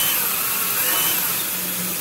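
A steady, loud whine of a power drill boring through material, running continuously without pause and close to the listener.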